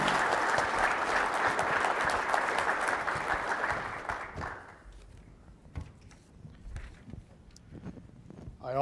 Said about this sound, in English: Have a round of applause for the Sheriff.